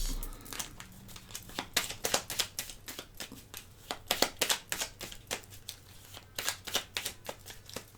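Thin prototype tarot cards are shuffled and cut by hand in quick irregular bursts of crisp riffling and flicking, close and fairly quiet, with no voices.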